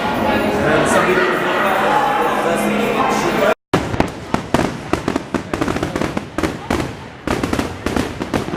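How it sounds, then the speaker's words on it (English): Rapid bursts of fireworks explode in a dense barrage at a Halloween party at Disneyland, sharp cracks and booms piling up after a steady roar of crowd noise, with voices mixed in. "So the fireworks are going off."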